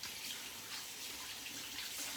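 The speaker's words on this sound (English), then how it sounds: "I have soapy water here, so that's what I'm doing, washing my hands." Hands being washed in soapy water at a kitchen sink, a continuous soft splashing and running-water wash, close and fairly quiet, with no speech.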